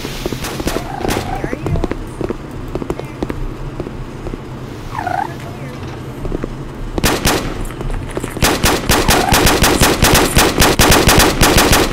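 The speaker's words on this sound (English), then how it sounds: "Why are you shooting at me?" Gunfire in the SCP: Site-19 mobile multiplayer game, scattered shots early, then dense rapid automatic bursts dominating the second half, with voices talking over the game audio.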